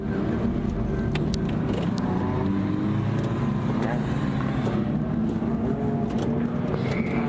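A race car engine starts up and settles into a steady, loud broadband drone inside an enduro racing video game, holding at an even level throughout.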